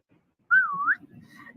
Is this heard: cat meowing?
no